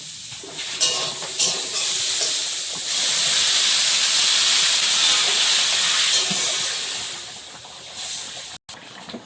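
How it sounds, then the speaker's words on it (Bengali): Fish curry with tomato bubbling in a pan, a loud continuous steamy hiss rising after a few clinks and settling toward the end, close and without talk. "মাছ দিয়ে একটু ফুটিয়ে নিয়েছি"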